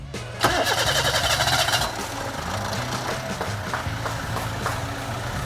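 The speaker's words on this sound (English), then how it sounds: "You can start your engine now" A Perodua car engine cranks with a rapid whirring starter after an oil change and throttle body cleaning, then catches and settles into a steady, rumbling idle close by.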